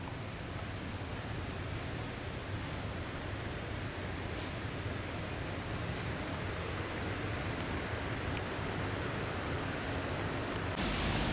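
Compressed air rushes through a train's brake line in a railyard, a steady, loud broadband hiss that holds unbroken throughout.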